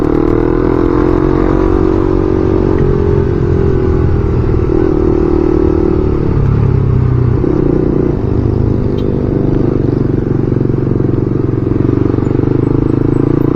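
A motorcycle fitted with an aftermarket Yoshimura R11 dual exhaust runs loud and close, its engine note droning steadily with slight swells in pitch and no voices.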